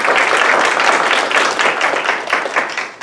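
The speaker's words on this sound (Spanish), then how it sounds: "Les pido un aplauso para recibirla," An audience at an academic human rights lecture on genocide and the Holocaust claps, giving dense, loud, sustained applause that fades slightly toward the end.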